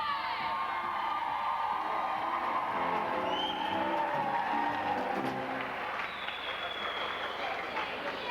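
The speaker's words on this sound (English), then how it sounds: "Can you give a big round of applause to our contestants today?" Audience at a 1995 college rag week show applauding and cheering for the contestants, a steady dense wash of clapping and whoops lasting throughout, fairly distant and roomy, with some voices mixed in.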